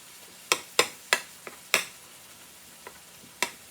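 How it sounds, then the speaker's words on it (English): Ground beef browning in a pan gives a soft sizzle with a handful of sharp clicks and scrapes as it is stirred, spaced irregularly and fairly close. "Browning up our ground beef."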